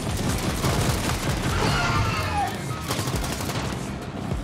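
Turret gunfire in a video game rattles continuously as rapid, loud automatic bursts, with a dense steady rhythm of repeated shots.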